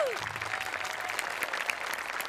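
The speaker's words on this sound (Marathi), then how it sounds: "जोरदार टाळ्या" A studio audience at a Marathi comedy show claps loudly and steadily for a performing team, a dense, continuous wash of applause that holds for a couple of seconds.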